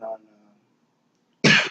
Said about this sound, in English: I got a cold. That's why I'm coughing over here